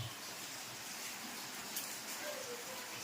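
Rain pours steadily near a home in Chalala, forming a soft, constant wash of hiss with no clear individual drops, low in level and unbroken throughout.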